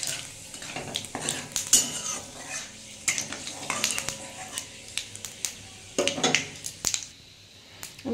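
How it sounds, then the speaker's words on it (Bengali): Bay leaf, dry chili and five-spice crackle in hot oil, with a soft sizzle beneath repeated metal spatula scrapes and clatter against the pan. The stirring comes in irregular bursts. "আমি তো এই তেলের মধ্যে একটু তেজপাতা, একটু শুকনো লঙ্কা, একটু 5 ফোড়ন দিয়ে দিলাম বন্ধুরা"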